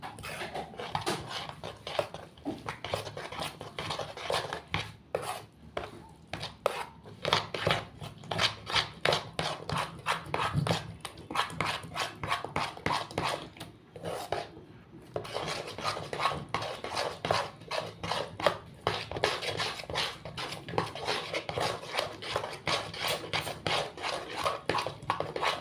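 Lentil pakora batter being mixed by hand in a bowl, heard as a long run of rapid, rhythmic wet squelching and rubbing strokes, fairly close and steady with brief pauses.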